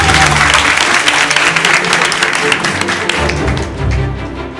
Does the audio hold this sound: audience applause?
yes